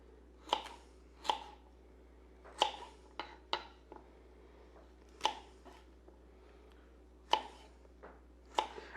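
A knife chops through carrots on a cutting board, each cut a sharp, close knock, about a dozen at an uneven, unhurried pace with short gaps between them.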